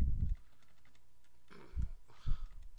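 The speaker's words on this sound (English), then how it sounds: "I can't type because my keyboard's at a weird angle here." Keys tapped on a computer keyboard set at an awkward angle, a few scattered low clicks in short clusters separated by pauses, close and fairly quiet with no talking.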